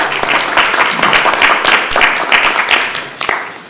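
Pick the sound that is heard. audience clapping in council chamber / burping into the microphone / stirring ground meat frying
audience clapping in council chamber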